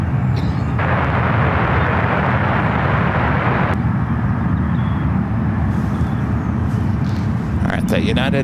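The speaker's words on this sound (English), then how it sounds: "that United 777 landing up 28 left" United Boeing 777 jetliner landing on runway 28 Left at San Francisco airport, a loud, steady broadband jet roar that holds throughout with a brief tonal whine near the end.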